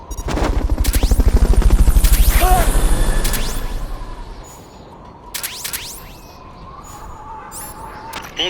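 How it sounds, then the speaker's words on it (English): Fulton recovery helicopter from the video game Metal Gear Solid: Peace Walker, a loud pulsing rotor chop that swells, then fades into quieter game ambience with scattered sharp effects. "Fulton recovery helicopter is complete."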